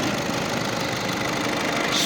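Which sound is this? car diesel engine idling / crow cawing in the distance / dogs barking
car diesel engine idling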